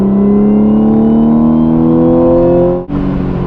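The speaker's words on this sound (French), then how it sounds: "Je pense que vous entendez le bruit du compresseur aussi" An Audi S5 with a supercharger accelerates hard, its engine note climbing steadily with a whining compressor over the rising roar, then briefly cutting off at a gear change before pulling again, loud and close.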